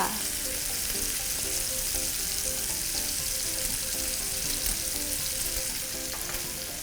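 Smoked bacon and garlic sizzle and crackle steadily in a hot pan while being stir-fried for spicy drunken-style instant noodles, with a loud, continuous frying hiss and occasional spatula scrapes.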